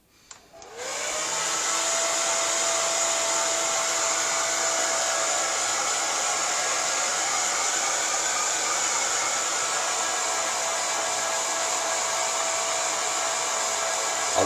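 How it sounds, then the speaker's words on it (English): A hair dryer used to dry acrylic paint on a gel plate print switches on with a click and rises into a steady, loud, high whooshing whine that continues without a break. "Hairdryer time again, so you might want to hit mute."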